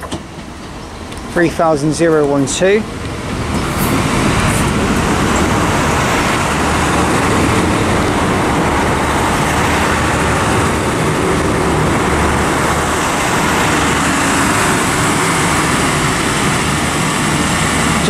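A Northern Ireland Railways passenger train pulls into Lisburn station with a loud, steady rumble and roar filling the platform, after a brief whistle-like squeal and a short spoken remark at the start.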